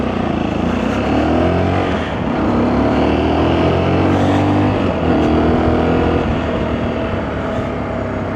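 A Lexmoto RX1 E55 125cc motorcycle rides through traffic, its engine droning steadily and close with continuous road and wind noise, no voices.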